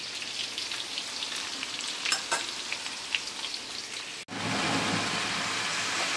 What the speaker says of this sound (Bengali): তো এই যে আমার মোটামুটি ফুলকপি কষানো হচ্ছে